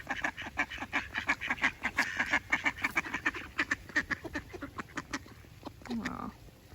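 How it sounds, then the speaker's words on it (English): Ducks quack in a quick repeated series, loud and close, with a single honk-like call near the end and a voice speaking faintly underneath. "I think it looks a bit like a mandarin duck."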